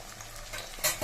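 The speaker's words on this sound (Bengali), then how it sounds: "কড়াইতে একটু তেল দিয়ে দিলাম তাহলে পনিরগুলো ভেজে জলে দিয়ে দেব" Paneer pieces fry in hot oil in a wok, giving a steady close sizzle, with stirring scrapes and a brief louder rustle near the end.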